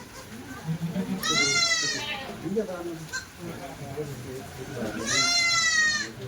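Kathiawadi goats arriving by vehicle let out two loud, drawn-out bleats a few seconds apart, close by, while people talk and murmur underneath throughout.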